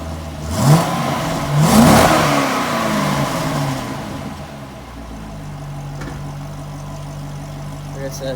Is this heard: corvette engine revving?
yes